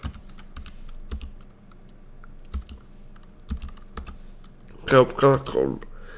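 Scattered keyboard keystrokes click irregularly at close range, followed near the end by a short burst of speech.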